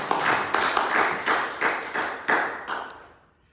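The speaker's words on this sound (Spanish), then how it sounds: "Un aplauso" A church congregation claps together in a short round of applause, a series of rhythmic group claps that fade out toward the end, with no voices over them.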